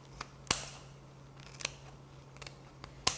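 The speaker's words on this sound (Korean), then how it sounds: "이렇게 가위로 잘라주시면 돼요" Kitchen scissors snip through soaked dried pollack, the fins being trimmed off, in several sharp, separate clicks spread unevenly over a quiet background with a low steady hum.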